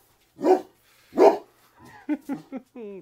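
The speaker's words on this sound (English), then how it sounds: "Oh, that dog." A dog barks twice loudly nearby, followed by a few shorter yips and whimpering barks in quick succession.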